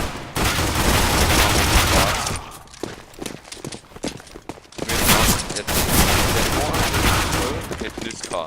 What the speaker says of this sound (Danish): Det er en pistol, ikke også? Ja, det er en pistol.